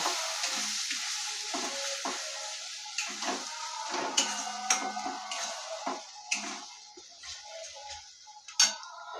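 Soft frying sizzle of a curd mixture in a pan while a spoon stirs and taps against the metal at irregular moments, close and fairly quiet.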